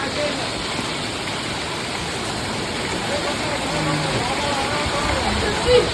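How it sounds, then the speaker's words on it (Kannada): Heavy rain pouring in Davangere, a dense, steady hiss of downpour on surfaces that holds at an even level from start to finish, with a brief bump near the end. "ಇವತ್ತೇ ಇಷ್ಟು ಜೋರಾಗಿ ಬರ್ತಾ ಇರೋದು ನಮ್ಮ ದಾವಣಗೆರೆಯಲ್ಲಿ ಮಳೆ."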